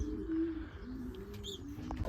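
Racing pigeons coo softly in a loft, a steady low murmur of several birds with occasional chirps, fairly close and continuous throughout.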